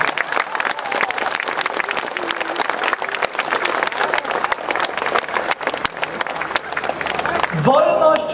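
A large crowd at an outdoor demonstration in defense of free speech applauds loudly and continuously, dense steady clapping filling the scene, with a voice briefly rising near the end.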